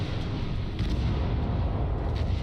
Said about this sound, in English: with a huge explosion.